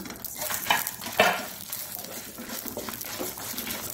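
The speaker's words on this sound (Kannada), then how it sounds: "ಒಳ್ಳೆ ಘಮ ಬರುವ ತನಕ ನಾವು ಹುರಿಬೇಕು." Black pepper, spices, tamarind and garlic fry in a pan for a Mangalorean clam sukka, giving a soft, steady sizzle with a few scraping stirs, alone and fairly quiet.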